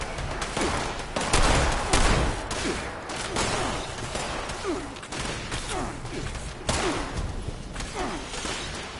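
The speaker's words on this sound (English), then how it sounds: "I'm gonna shoot them to the point where they probably have one shot." Dense rapid gunfire from the video game Fallout 76, bursts of shots rattling loud and close across the whole stretch, with faint voice under it.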